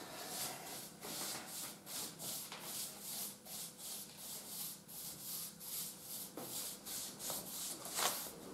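Rhythmic sanding strokes rasp back and forth across a hard surface of dried acrylic finishing filler, steady and close, about two strokes per second with no voices.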